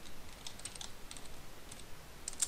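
Fast, light clicking on a computer keyboard while someone types a command into an FTB Unleashed Minecraft server. The keystrokes come as a quiet, uneven run with a couple of sharper clicks near the end.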